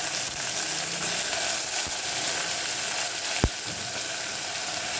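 Pieces of okra and cucumber sizzle steadily in a pan, cooking for a ridged-gourd-style okra and cucumber tamarind curry, with one sharp clack of a utensil near the end and no talking.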